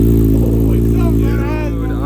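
A Yamaha R6 motorcycle with a full aftermarket Akrapovic exhaust idles and revs with a deep, throaty rumble, loud and close, steady with slight rises in pitch.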